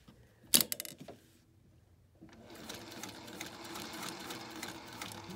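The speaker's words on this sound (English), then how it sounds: "normally I have two speeds on this sewing machine, stop and wide open" A sewing machine stitches a mitten-shaped ornament, a sharp mechanical clack and brief pause followed by a steady, rapid whirring run that builds and continues to the end.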